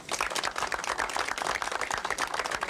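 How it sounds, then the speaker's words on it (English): An audience applauds at a community gathering, dense rapid clapping holding steady and fairly close throughout, with no voices over it. "he deserves a round of applause"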